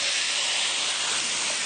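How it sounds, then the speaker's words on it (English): Tomatoes sizzle in a hot pan with sea salt and pepper for a shrimp dish. The sizzle is a continuous, even hiss, close and fairly loud, with no voices over it. "A little sizzle there."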